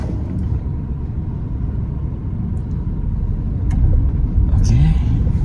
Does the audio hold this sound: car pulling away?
yes